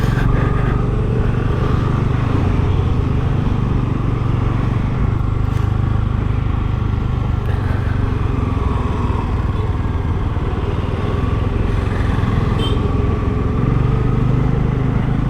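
Motorcycle engine droning steadily and loudly throughout a road trip through Kerala, a constant riding rumble with wind, no pauses or voices.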